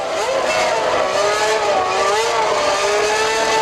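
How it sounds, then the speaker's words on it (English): Gerhard Berger's Ferrari Formula One car at the 1994 Italian Grand Prix at Monza, coming into the pits, a loud, continuous high-pitched engine whine with shifting revs, steady and close throughout. "Here comes the first Ferrari in for a pit stop"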